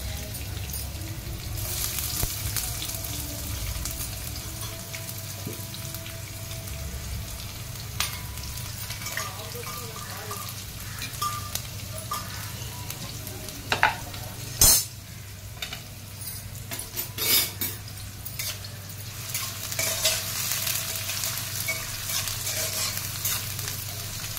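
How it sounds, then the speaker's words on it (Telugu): Onions and cumin fry in a pan with a steady, close sizzle, broken by occasional stirring scrapes and a few clinks from a utensil, with no one speaking. "జీలకర్ర కొంచెం ఫ్రై అయిన తర్వాత ఇప్పుడు ఆనియన్స్"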